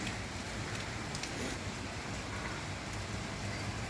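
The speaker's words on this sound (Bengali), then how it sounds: "আমাদের এখানে প্রচণ্ড বৃষ্টি হচ্ছে দেখেন বৃষ্টির জন্য বাহিরে তাকানো যাচ্ছে না" Heavy rain pours down outside in a dense, continuous hiss of drops hitting surfaces, steady and unbroken throughout.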